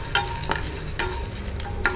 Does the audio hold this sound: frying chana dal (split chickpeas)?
yes